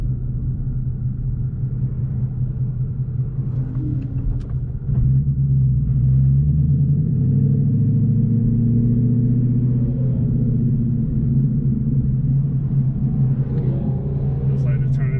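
A car drives a damp, winding mountain road on the Suches Loop in Georgia, giving a continuous low engine and road rumble that swells slightly as it accelerates.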